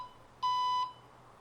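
A single steady electronic beep of about half a second sounds from the liftgate of a 2023 Alfa Romeo Stelvio Estrema SUV as its opening height is programmed, clear and alone against faint background hum.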